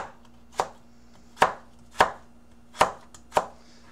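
Five sharp knife chops strike a cutting board at uneven intervals, crisp and close, with quiet pauses between them.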